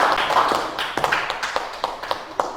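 A classroom audience claps for presenters who have just finished their material, a light, fairly thin round of scattered claps with distinct taps that stays steady for a few seconds.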